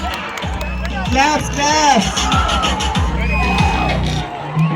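Audience clapping and cheering for a college lecturer's performance at a campus event, a steady crowd roar with whoops under a host speaking over the microphone throughout.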